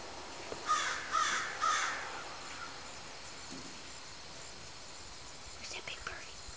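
A crow caws outdoors three times in a quick sequence, moderately near against a steady breezy background hiss, and a few fainter calls follow later.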